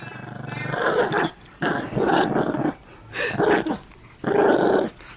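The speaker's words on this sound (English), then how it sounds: "Am I not tugging enough? She's such a goofy dog." A playful dog growls and grumbles in four long bursts while tugging on a toy, close and fairly loud, with short pauses between the rumbling growls.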